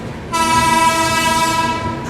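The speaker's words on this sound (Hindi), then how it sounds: "हावड़ा राजधानी आ गई है," The Howrah Rajdhani Express arrives at a station, its loud sustained train horn blaring steadily over rumbling rail noise, close and with no talk.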